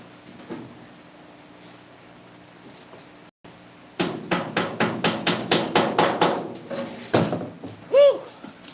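Rivets are hammered on a 7.5 gauge railroad car, a quiet stretch giving way to a rapid run of about a dozen loud, sharp metallic blows close by, followed by a couple of further strikes.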